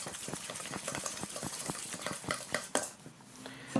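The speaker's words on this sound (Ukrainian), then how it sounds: "Яйцо с луком мы перемешиваем хорошенечко." An egg and chopped onion mixture being stirred vigorously with a utensil, giving a steady rapid run of close clinking and scraping taps against the bowl that slow and thin out near the end.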